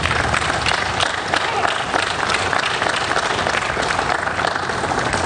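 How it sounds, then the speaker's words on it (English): Dense, loud audience applause filling the whole stretch, a continuous roar of many clapping hands with crowd noise mixed in. "Let's give him a round of applause."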